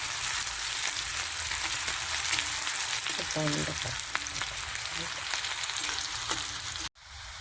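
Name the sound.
onions frying in a pan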